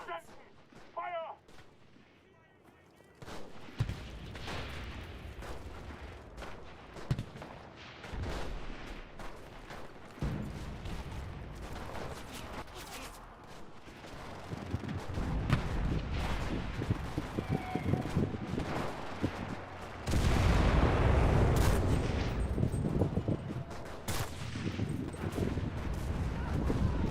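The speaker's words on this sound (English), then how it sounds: "Artillerie! Feuer auf den Platz! Fire!" Artillery barrage in a video game: heavy booming blasts and gunfire rumble build through the clip, loudest in the second half, with a brief shout near the start.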